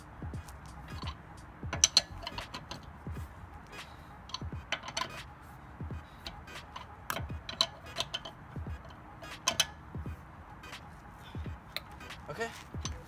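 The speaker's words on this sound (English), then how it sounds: "you want to go through and tighten each lug nut in a star pattern once again" A wrench tightens car wheel lug nuts in a star pattern while changing a tire, making rapid ratcheting clicks in short bursts with brief pauses between nuts.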